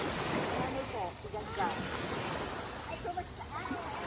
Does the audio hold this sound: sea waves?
yes